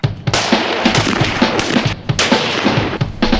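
Rifle shots crack at a South Texas shooting range, a rapid series of loud sharp reports close by with echoing tails, no voices over them.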